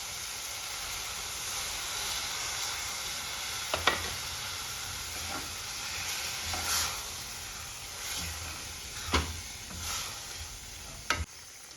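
Tomato-onion masala with tamarind juice and bisibele bath powder cooks in a pan for bisibele bath, a quiet steady sizzle and hiss broken by several sharp spoon scrapes as it is stirred.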